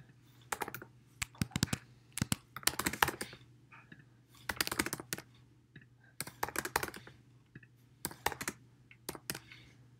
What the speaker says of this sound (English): I just click and then type.